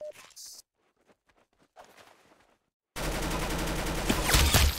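Gunfire in the Roblox game Arsenal, with scattered clicks and short pops at first, then a loud, dense stretch of rapid shots and game noise.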